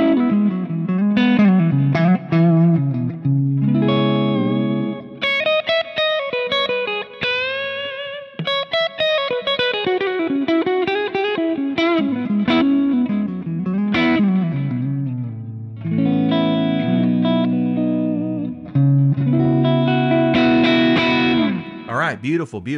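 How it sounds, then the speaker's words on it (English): An electric guitar with PAF-style humbuckers plays through a Bad Cat CS50 amp model, a 12AX7 channel into 6L6s with no mid cut, giving a loud, driven, sustained tone with chords and melodic single-note lines throughout. "It's a normal 12AX7 Bad Cat matchless kind of channel, but it's running into 6L6s."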